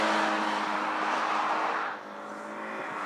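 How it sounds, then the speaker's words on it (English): A 2013 Mazda MX-5 Miata Club drives along a mountain road, its engine a steady close drone that dips in level about two-thirds through, then carries on slightly quieter, with no voices. "I might enjoy driving the Miata along this mountain road more"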